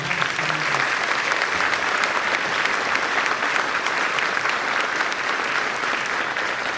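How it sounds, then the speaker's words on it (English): A school audience at an eighth-grade promotion ceremony applauding, a dense, steady round of clapping from a large crowd that holds at full strength throughout. "Let's give him another big round of applause."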